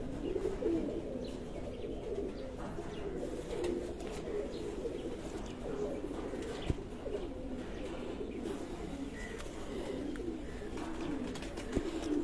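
Pigeons coo in a breeder's home loft, soft rolling calls repeating steadily at a modest distance, with occasional faint clicks and no speech.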